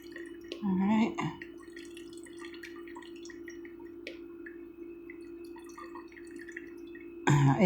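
Rose petal perfume drips and trickles through a strainer in close, quiet drops, with brief louder clinks and handling noises at the start and end.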